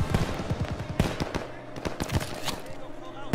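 Rapid bursts of mortar and gunfire in Call of Duty: Vanguard's D-Day mission, a dense run of sharp booms and cracks layered under battlefield noise.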